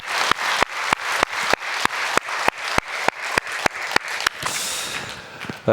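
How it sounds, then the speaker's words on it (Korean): A church congregation at a Sunday worship service claps in unison, a steady rhythm of sharp claps about two or three per second, loud and close, breaking into looser scattered applause near the end. "오늘을 주신 하나님께 영광의 박수 올려드리십시다"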